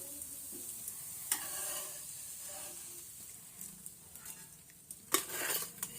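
Sabudana thalipeeth frying in a pan, heard as a faint, continuous sizzle with occasional soft scrapes and clinks of a spatula against the pan.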